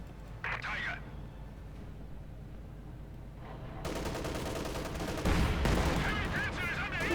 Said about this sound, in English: Bit of a duel here between mortars.